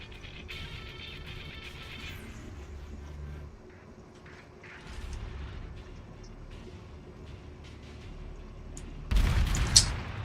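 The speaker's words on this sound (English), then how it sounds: "I'm actually just going to do some retreating fire here." Naval guns of the light cruiser Belfast fire in a World of Warships battle, low booms and a rumbling bed of gunfire throughout, with a louder, closer burst of blasts near the end.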